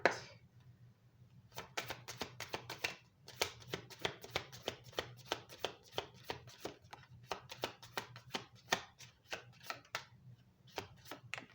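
Kipper cards being shuffled by hand, a rapid run of crisp riffling clicks and slaps that pauses briefly after the opening, then resumes in quick bursts, close and clear with no talk.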